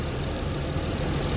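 Acura TL engine idling with the air conditioning running, a steady low rumble blended with a constant fan-like whoosh and a faint high whine, even and unbroken throughout.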